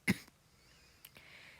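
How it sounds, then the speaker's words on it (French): One sharp, close cough, followed by a couple of softer throat-clearing sounds, quiet and with no talking. "Désolé, je tousse un peu."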